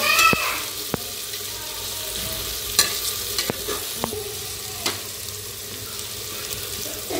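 Tomato cooks down in oil in a pan on a gas stove while making biryani, giving a steady close sizzle with scattered clicks and scrapes of stirring, and no voices.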